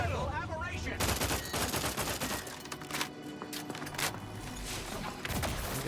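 Rapid bursts of sniper rifle gunfire ring out in a sci-fi video game, several sharp cracks in clusters over a busy game soundscape, with a voice speaking briefly.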